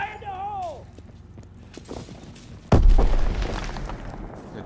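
A grenade goes off in Call of Duty WW2 during a ranked Demolition match: one loud, deep boom with a rumbling tail, following quieter gameplay sounds and a brief voice.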